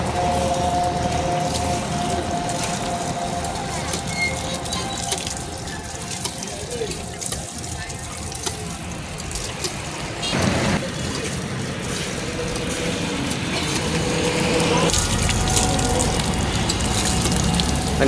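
Water gushes steadily from a newly installed hand pump tube well in rural Bangladesh, a continuous close rush with rhythmic surges from pumping and occasional faint voices.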